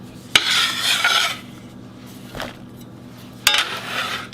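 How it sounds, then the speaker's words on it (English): Chopped mushroom and onion are scraped into a bowl, with sharp clinks of a utensil on the dish followed by bursts of rough scraping and rubbing, three distinct episodes close by. "I'm going to put these in my bowl"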